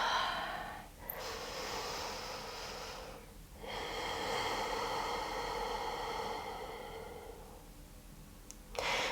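Slow, deep breaths during a yoga stretch, with long airy inhales and exhales close to the microphone, separated by short pauses and heard alone.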